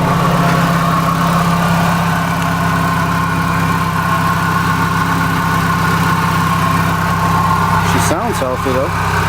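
A 2G Mitsubishi Eclipse Spyder GS-T with a dual-tip aftermarket exhaust idles steadily at close range, a smooth low rumble with a brief sweeping tonal sound near the end.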